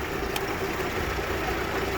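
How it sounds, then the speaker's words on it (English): A 2007 Chevy Aveo engine lugs down as a heavy alternator load kicks in, giving a steady, dense mechanical drone throughout, loud and close, with no voices. "you can hear the engine lug down because that alternator hit hard"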